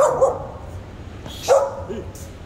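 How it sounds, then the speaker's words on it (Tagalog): Dogs barking outdoors, two short, fairly close yips or barks separated by a pause, over faint background noise. "Nanggugulo sa akin yung mga aso."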